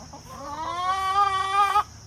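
Two-year-old Wyandotte hens, a winter-hardy breed, give a single drawn-out, rising vocal call close by, steady and fairly loud for nearly two seconds before cutting off, over a quiet outdoor background.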